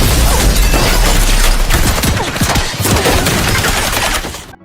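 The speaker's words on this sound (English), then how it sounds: "several assassins shoot her through the windows" Dense, rapid gunfire from several shooters firing through windows crackles in a sustained loud barrage of overlapping shots, with some glass-like crashing, fading out at the end.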